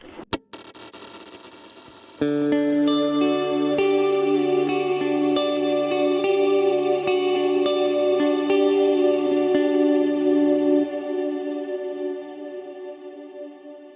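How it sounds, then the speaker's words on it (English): Cloud reverb on a Strymon Big Sky pedal washes over a sustained guitar chord, building into a dense, shimmering swell that rings on and slowly fades. "Next up, we're going to try the cloud reverb. This is another one that Strymon is famous for."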